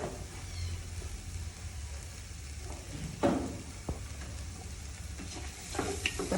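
Spices and coriander powder sauté in a pan for biryani with a soft, steady sizzle and occasional stirring scrapes, one louder scrape partway through.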